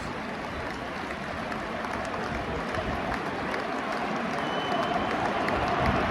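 A Wolves football crowd in a stadium during a match against West Ham roars and chants just after a goal, a dense sustained wall of voices and noise that swells slightly toward the end.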